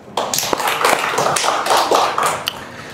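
A church congregation claps in response during a sermon, a close, fairly loud burst of fast, sharp hand claps with a slightly uneven rhythm lasting a few seconds, no voices over it.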